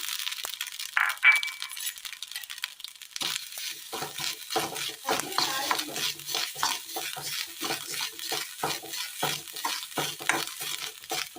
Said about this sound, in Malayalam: തേങ്ങ നല്ലപോലെ ഒന്ന് വറുത്തെടുക്കാം